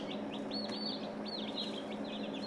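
American Bresse and Cornish Cross chickens give faint, repeated short chirps and clucks over a steady background hum, quiet and somewhat distant.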